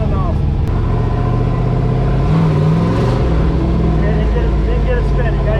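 A drift truck's engine drones loudly and steadily at high revs, rising and dipping slightly as the throttle is worked to try to break the wheels into a spin.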